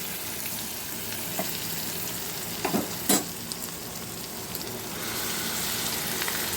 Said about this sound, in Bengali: আমি এখন পেঁয়াজ বাটাটাও